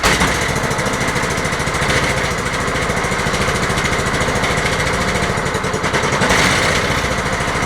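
A small Chinese engine runs steadily, close and loud, with a fast rough putter and mechanical clatter throughout and no talk.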